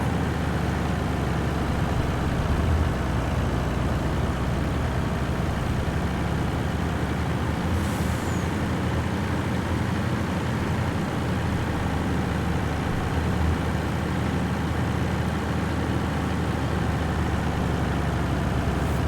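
A tractor engine in a farming video game runs steadily for the whole stretch, a low continuous drone with a constant level and no talk over it.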